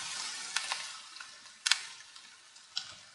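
Cabbage sizzles quietly in a pan in a village stove, a soft continuous frying hiss broken by a few sharper crackles and pops.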